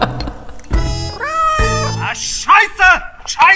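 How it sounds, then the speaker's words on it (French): A tiny kitten meows several times in quick succession, close and loud, with rising and falling cries growing more frequent toward the end. "C'est plutôt un petit chaton tout mini."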